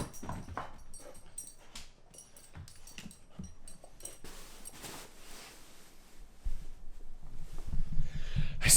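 A dog whimpers and lets out soft yips and whines in an indoor room, intermittent and fairly close, with a few thumps and shuffling noises mixed in and no speech.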